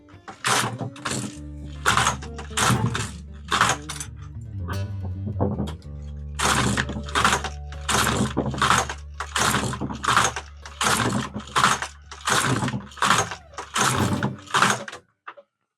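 An LK150 knitting machine carriage is pushed across rows of needles, giving a series of loud, regular sliding clacks, about a dozen strokes with short pauses between them.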